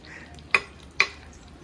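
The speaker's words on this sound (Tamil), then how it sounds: "மண்பானையில் சிக்கனை வறுக்க சொல்லிட்டாங்க" Chicken cooked in a clay pot in a traditional kitchen, heard as two sharp stirring scrapes and knocks against the pot over a low sizzle.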